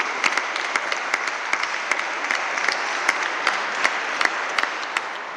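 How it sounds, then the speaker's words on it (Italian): A crowd claps steadily after an organ concert by the Cappella Civica di Trieste in the Cathedral of San Giusto. The dense applause fills the reverberant space, with sharper individual claps popping out of the even roar. "a cui va ancora il nostro applauso."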